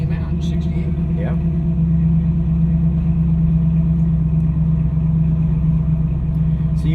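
A 1968 Chevrolet Camaro with no power steering or power brakes rumbles steadily while driving, its low engine drone continuous and close, with a faint voice briefly audible over it.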